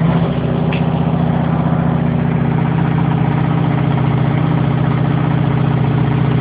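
Motorcycle engine idling steadily with its battery and charging system connected, a close, loud, even low rumble holding constant throughout with no revving.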